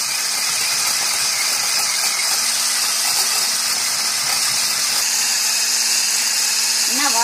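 Electric mixer whipping egg whites into a sugar-free banana meringue, a steady loud whir running unbroken throughout with faint scraping against the bowl.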